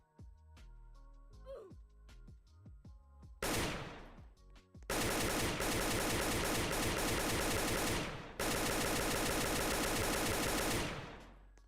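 Sustained automatic AK rifle fire in a Roblox game, loud and close, in long continuous bursts separated by short gaps, with a few scattered sounds before the shooting starts.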